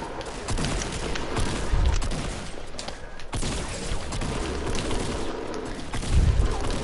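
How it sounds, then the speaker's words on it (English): Explosions and gunfire in a Fortnite match: a dense, continuous battle din with booming low-end bursts around the second and sixth seconds, loud and sustained throughout. "Get out! There's a grenade in here."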